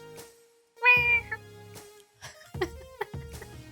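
A cat meows in a few short, high-pitched calls, close by, spread across a few seconds with brief pauses between them.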